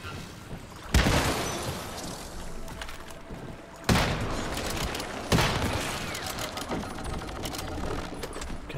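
Rifle fire in the Once Human game: several heavy shots and bursts ring out at irregular intervals, loud and close, over a busy rumbling background of mechanical and environmental noise.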